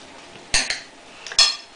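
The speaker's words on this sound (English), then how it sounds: "Stir that up a bit." A utensil stirs a quinoa salad with orange pepper in a bowl, making two brief, sharp clinks and scrapes close by, separated by a short pause, with no talking.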